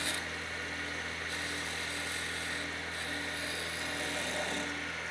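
A skew chisel cuts a wood spindle on a running lathe, making a steady close whirring hum with a hissy cutting texture that briefly eases and returns, with no talk.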